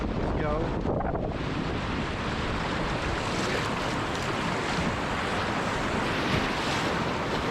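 Waves and steady wind roar around a Dagger Vanguard V1 prototype kayak paddled at speed on open water, with dense continuous surf and wind buffeting the microphone and no talking.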